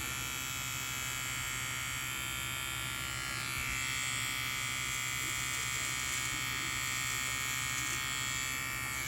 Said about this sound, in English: Let me see how this precision trimmer works.